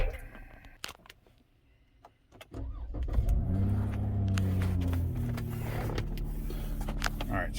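A car starts up and pulls away with its engine running steadily and rising under load, with a few clicks and thumps before the engine sound swells.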